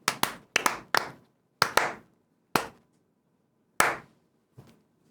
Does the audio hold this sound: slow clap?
yes